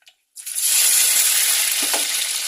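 Chopped onions and tomatoes drop into hot oil with fenugreek seeds in a pan for a mango fish curry. After a brief quiet moment, a sudden loud, bright sizzle starts and continues steadily.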